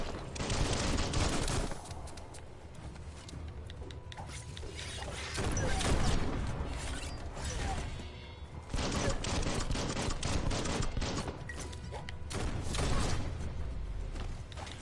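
Dense, continuous gunfire and combat clatter from the action game Biomutant, loud and sustained throughout with bursts of shots and impacts, no talking over it.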